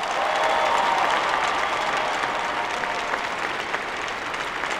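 Steady, sustained applause from a hockey arena crowd, dense clapping filling the space from start to finish at an even loudness, with no voices standing out.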